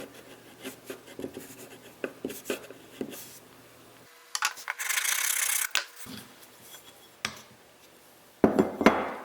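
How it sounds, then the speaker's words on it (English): Light, intermittent scraping strokes of sandpaper across a split wooden axe handle, close and quiet, in short irregular bursts with a longer, brighter rasp in the middle and a final scrubbing flurry. "Every time it puts a line on there, I sand the line off, but I stay to the underside of that line."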